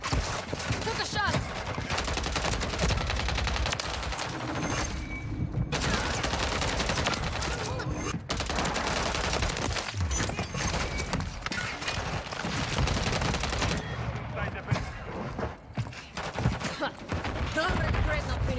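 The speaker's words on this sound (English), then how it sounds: "Wow, I missed like a million shots." Rapid bursts of SMG fire from the Striker in Call of Duty MW3 multiplayer, loud repeated volleys with short gaps, over the clatter of game action and a voice talking.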